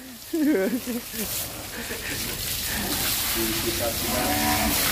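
Cattle moo several times, fairly close, over a steady outdoor hiss on a farm, with people talking briefly.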